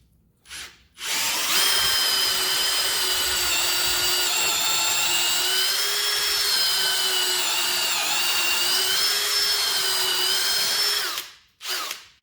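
An Ozito 18V brushless hammer drill runs loud and close through a drill bit, starting after a brief blip and holding a steady whining motor tone for about ten seconds with slight pitch dips, then stopping and giving a short final burst.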